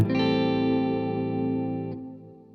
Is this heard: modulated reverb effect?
yes